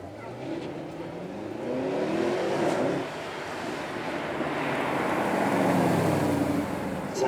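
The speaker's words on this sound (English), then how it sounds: "this is an SLS AMG with a full stonking V8 in the front of it" A Mercedes SLS AMG with a front-mounted 6.2-litre V8 roars and revs, rising and falling as it passes, loud and close, with a low rumbling tone throughout, at a supercar show.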